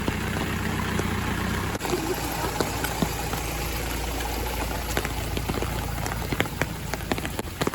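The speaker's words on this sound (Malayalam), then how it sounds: "ആ, ഇടി വരുന്നുണ്ട്. ഇടി മഴയെല്ലാം ഉണ്ട്." Rain falling during a thunderstorm, a continuous dense patter of drops hitting surfaces with scattered sharper splashes, steady and close, over a faint low engine hum.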